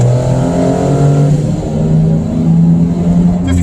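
A car accelerates hard from about 30 toward a 55 mph limit, its engine note loud and steady with rising harmonics, heard from inside the cabin without talk.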